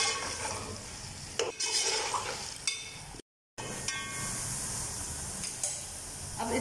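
Whole spices (bay leaf, a cinnamon piece and black cumin) roast in a pan for beef pulao, giving a steady close hiss with faint stirring scrapes and a brief gap of silence midway.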